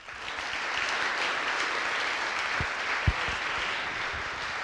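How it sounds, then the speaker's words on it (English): An audience at a service awards ceremony breaks into sustained applause, a dense, even wash of many hands clapping for several seconds, with one louder clap standing out near the close. "So let's give them a round of applause"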